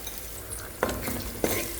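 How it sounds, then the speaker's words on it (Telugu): Ginger garlic paste sizzles and crackles in a hot pan for an aloo kurma, giving a steady close frying hiss with a couple of sharp stirring scrapes. "సో ఆ పేస్ట్ వేస్తున్నాను. చూడండి ఎంత బాగా వేగుతుందో."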